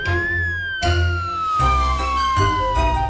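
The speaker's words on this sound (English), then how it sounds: "That's right, it's a police car." A police siren wails steadily with a slowly falling tone, while low rumbling thumps pulse underneath at irregular intervals.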